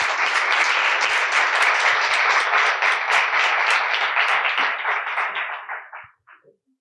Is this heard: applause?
yes